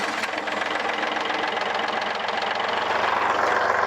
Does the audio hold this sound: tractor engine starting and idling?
yes